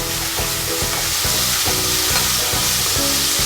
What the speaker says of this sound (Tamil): இப்போ இதில் நம்ம வெங்காயத்தை சேர்த்துக்கலாம்.